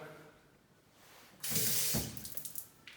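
Strong-pressure water from a shower or tap in a villa bathroom, faint room quiet giving way to a sudden loud rushing spray that continues with splashy fluctuations.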